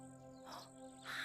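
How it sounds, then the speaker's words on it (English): Faint bird chirps in a virtual reality nature scene, a couple of soft, high calls over a steady humming background, distant and quiet. "Bird?"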